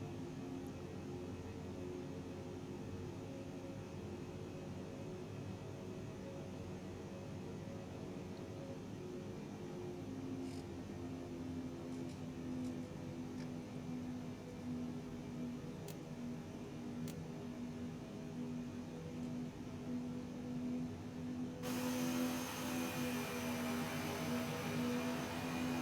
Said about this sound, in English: I'm just going to head for the runway and back taxi it.